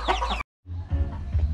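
Chickens cluck on a Philippine farm in short bursts, loud and close, after a brief pause, with no talk over them.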